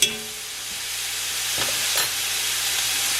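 Lots of garlic hits a hot pan for low carb arroz con pollo and sizzles with a steady, close hiss right after a sharp initial crackle, lasting for a few seconds with no one talking.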